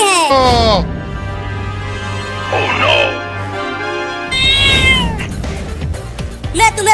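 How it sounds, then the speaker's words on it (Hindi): A cat meows repeatedly indoors, loud and close, with drawn-out wavering cries that sound almost like a crying infant, separated by brief pauses. "बिल्ली मेरे पास मत आना"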